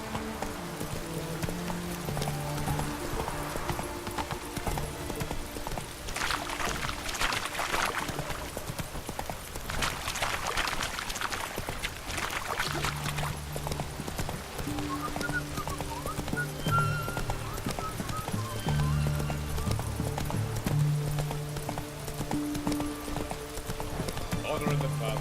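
Hooves of Roach, a horse in The Witcher 3 video game, clip-clop in a steady galloping rhythm throughout, with background game music and effects; a voice speaks at points over it.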